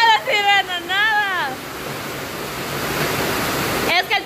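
Rushing water floods into a home during a rainstorm with a steady broadband roar, preceded by excited shouting voices and ending with more voices breaking in.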